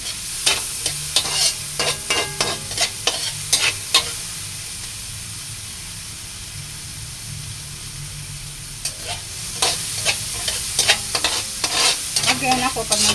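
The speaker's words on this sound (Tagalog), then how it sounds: "Halo-haloin natin siya." Stirring sautéed chayote with tomato in a pan, a spoon scraping in quick irregular bursts over a steady sizzle, with a quieter stretch of plain frying midway before the stirring resumes.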